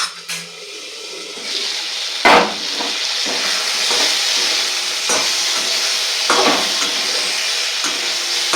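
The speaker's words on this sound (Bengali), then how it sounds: "পটল কষানো হচ্ছে" Pointed gourd (potol) sautés in a pan with a loud continuous sizzle, broken by several sharp scraping stirs of a spatula at irregular intervals.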